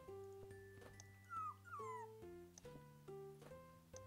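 A dog in a video game whimpers and yips in high, sliding whines over a looping musical background, fairly quiet and with no talking.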